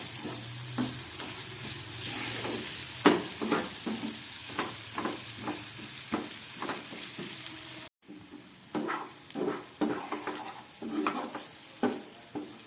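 Water poured into pomfret fish masala sizzling in a pan and stirred, with a run of close scraping stirs and bubbling, quieter after a brief cut, no talk.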